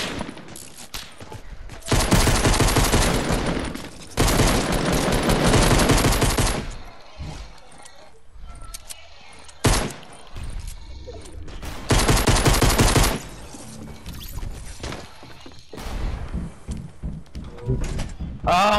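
Hunting rifle and other gunfire in the Fortnite video game, several loud sustained bursts of shooting separated by quieter gaps, with a few single sharp shots in between.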